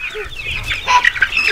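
Chickens clucking in short bursts at close range, with a few sharp higher calls toward the end over a quiet background.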